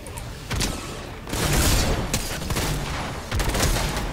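Fortnite gunfire, including heavy shotgun blasts, in dense loud bursts that run through most of the stretch, close and punchy, with no talk over it.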